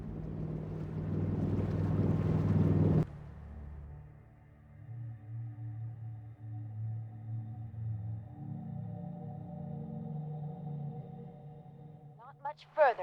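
In the video game Fallout 4, a boat travels on water with a loud rushing whoosh for a few seconds. It settles into a low, steady droning hum and ends with a brief, higher chirp.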